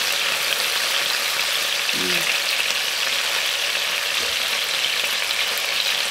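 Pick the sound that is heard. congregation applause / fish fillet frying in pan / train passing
fish fillet frying in pan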